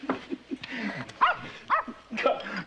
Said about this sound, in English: Call off your dog, Bossy.